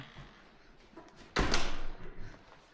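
A hotel room door swings shut with a single loud, close thud and latch, set against quiet room tone with faint scuffs before it.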